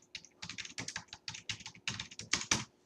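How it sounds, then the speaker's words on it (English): Rapid clacking keystrokes on a computer keyboard as an address is entered, quick irregular bursts of crisp taps, close and clear against near silence. "I'm just going to type in a generic address that I know will end up where the pin goes"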